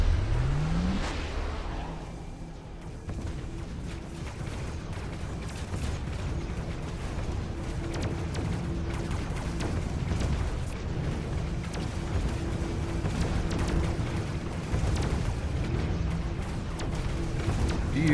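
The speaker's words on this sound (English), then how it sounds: "Opponent trying EMP barrage." EMP barrage attack in a mech combat video game, a dense, roaring rumble of blasts and crackling impacts sustained throughout, loud and close with mechanical whirring underneath.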